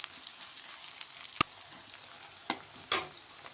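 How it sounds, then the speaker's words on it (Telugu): Finely chopped onions frying in a pan for an egg potato fry, with a quiet continuous sizzle and a few sharp clinks and scrapes of a utensil against the pan, close by. "ఒక కప్పు చిన్న ముక్కలు కోసుకుని ఎర్రగా వచ్చేదాకా వేపుకోవాలి"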